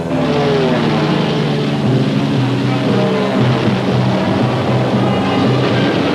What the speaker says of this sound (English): B-17s lift off from Midway in June 1942